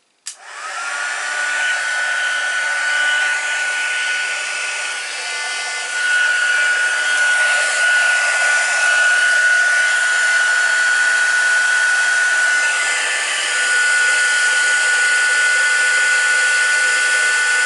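A loud, steady craft heat tool roars continuously with a high whine running through it, starting abruptly and holding for the whole stretch without pause.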